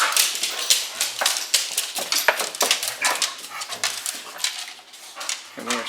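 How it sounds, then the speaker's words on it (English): A dog barks repeatedly in short sharp bursts, close and fairly loud, with a few whimpering sounds in between and brief voices near the end. "Now there's another doggy."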